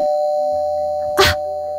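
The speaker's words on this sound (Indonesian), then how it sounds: "Ada bunyi bel lagi." A doorbell rings once in a home, a short bright chime burst rising over a steady background tone, with nobody speaking.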